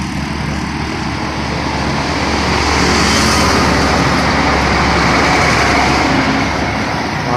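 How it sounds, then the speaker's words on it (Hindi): A Hino J2 turbo intercooler truck approaching along a road in Pakistan, a continuous loud engine drone with rumbling road noise that swells and holds steady, with no talking. "माशाल्लाह आगे से एक और गाड़ी आ गई है PKD 411, देख सकते हैं आप माशाल्लाह।"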